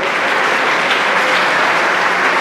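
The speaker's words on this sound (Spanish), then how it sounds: "Un aplauso" Loud, dense applause from an audience at a ceremony honoring outstanding women in Guerrero for International Women's Day, an unbroken burst of clapping lasting a couple of seconds.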